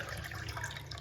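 Tap water runs into a pot in a home kitchen, a short steady splashing gush heard faintly and alone.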